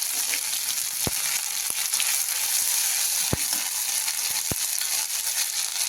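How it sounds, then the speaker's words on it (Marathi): Cumin and a ginger, green chilli and coriander paste fry in hot oil for a mustard greens dish, producing a continuous dense sizzle with a few sharp spattering pops, close and without voices. "थोडे जिरे टाकून घेऊ अर्धा चमचा आलं हिरवी मिरची कोथिंबीर पेस्ट टाकून घेऊ"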